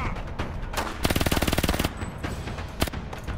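Automatic rifle fire in a shooter video game: a rapid burst of about fifteen evenly spaced shots, loud and close, with a few scattered single cracks and game noise around it.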